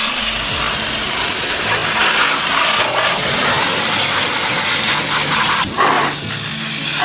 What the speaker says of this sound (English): I'm using the pressure washer to clear out the rails and motors.